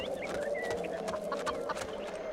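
Chickens cluck softly in the fantasy video game Two Worlds, a faint scatter of short clucks over a steady ambient hum.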